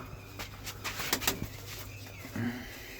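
Soft pigeon coos sound close by, a low repeated murmur with a few brief rustles and flutters.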